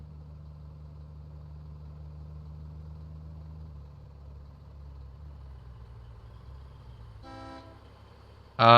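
A low engine idles in the Foxhole war game, then a vehicle horn gives a short honk followed moments later by a second, louder blast that cuts in near the end.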